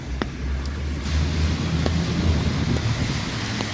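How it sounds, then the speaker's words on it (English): Gusty wind outdoors during rain, a steady low roaring rush buffeting the microphone with a few faint ticks, loud and close throughout with no voices. "it's getting a little bit problematic to control umbrella with this wind gusts."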